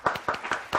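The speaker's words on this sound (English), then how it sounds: "Ladies and gentlemen, please, huge round of applause for Neil Griffin." A few sharp, separate claps from a comedy club audience in Brampton, spaced out and fairly close, without any voices.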